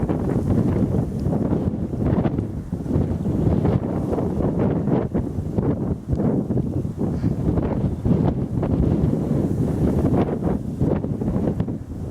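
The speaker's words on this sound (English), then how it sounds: "Wind's picking up, as you can probably hear." Strong wind gusts buffet the microphone continuously on a coastal walk between Berwick and Birling Gap, a loud broadband roar with rumbling low end and no speech over it.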